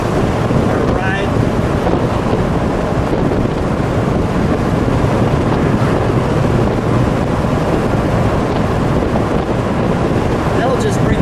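Heavy wind buffeting rushes past a red 1986 Ford Mustang GT 5.0 convertible with the top down on a country road, a loud constant roar with the engine low beneath, and voices faintly mixed in.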